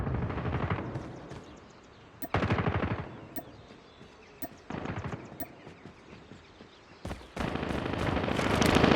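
A video-game shotgun fires on automatic in bursts of rapid blasts between quieter gaps, mixed with game sound effects and background battle noise.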